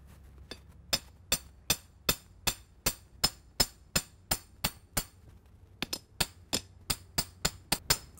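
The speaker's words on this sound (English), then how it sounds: "Grace, let's go ahead and hammer this in." Repeated sharp metallic hammer strikes drive a ground rod into dirt in a steady rhythm, a short pause, then more quick blows, close by in an otherwise quiet setting.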